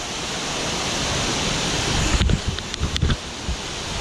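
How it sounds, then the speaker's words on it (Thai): A waterfall at Zhangjiajie, China pours with a steady, loud broadband rush, with a few brief thumps of wind buffeting the microphone partway through. "เราอยู่จางเจียเจียนี่น้ำตกจริงๆเห็นน้ำตกไหมน้ำตกแบบน้ำตกจริงๆอ่ะ"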